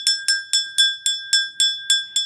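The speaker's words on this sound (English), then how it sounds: "And this is my bell. This is how I call in my spiritual team." A small spiritual bell struck nine times in steady rhythm, each strike a bright, clear metallic ring with sustained high overtones that decay quickly before the next, heard alone and close.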